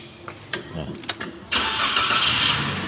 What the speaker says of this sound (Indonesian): Sekarang saya coba starter.